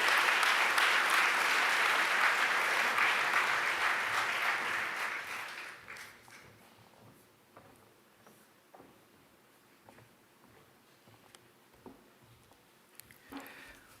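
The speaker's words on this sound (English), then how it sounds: "can you give her a round of applause for her service?" Loud, sustained audience applause fills a hall at a 2023 NOBLE installation ceremony for its president and officers during a national training conference, holding steady for several seconds before thinning out to scattered claps and quiet room noise.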